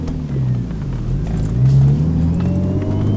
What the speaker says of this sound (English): I don't know if you guys can hear the little whining noise that my car's making.